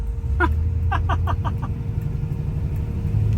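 Steady low rumble of a 1966 Chevy Caprice driving, heard from inside the car, with a few brief clicking or tapping sounds near the start.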